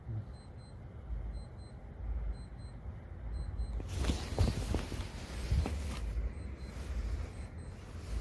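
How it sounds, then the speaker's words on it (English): An alarm goes off somewhere at night, heard as a faint, distant pattern of rapid high electronic beeps in repeating bursts over a low rumble, partly masked by nearby shuffling and knocking. "there's an alarm going off somewhere"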